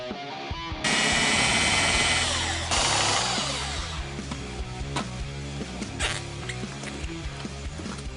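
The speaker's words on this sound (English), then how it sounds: "We're going to use our good friend, our Milwaukee Sawzall, for that." Milwaukee Sawzall reciprocating saw cutting the impact absorber of a 2005-2009 Ford Mustang front bumper, a loud close buzzing burst that roughens and fades into scattered scraping and clunks.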